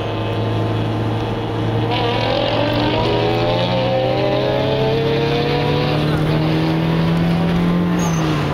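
An Acura RSX accelerating hard in a roll race at a drag event, its engine note climbing steadily as it pulls, loud and continuous with other engine noise droning underneath throughout.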